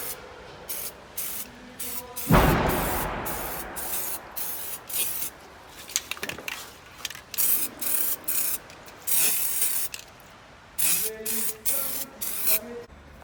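An aerosol spray can releases a long, loud hiss of spray, followed by shorter bursts mixed with rubbing and handling noises at close range.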